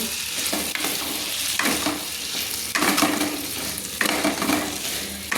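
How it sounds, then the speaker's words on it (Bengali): Potato pieces with salt and turmeric fry in a pan for a green pea ghugni, sizzling loudly while a metal spatula stirs them in repeated scraping bursts, with no talk. "সুন্দর করে একটু খুন্তি দিয়ে নেড়ে লাল লাল করে ভেজে নেব"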